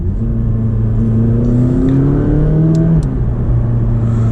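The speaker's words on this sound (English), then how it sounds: "we have a twin turbo V8 producing 562 horsepower, not 570" A McLaren 570GT's twin-turbo V8 revs loud and close, its engine note rising and falling steadily in a continuous drone with no talking.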